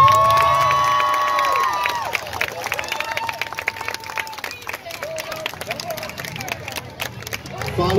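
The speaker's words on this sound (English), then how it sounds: "round of applause, y'all" Crowd at a holiday parade in Boynton Beach, Florida claps and cheers, with scattered shouts and children's voices mixed with nearby talking and a sustained tone at the start.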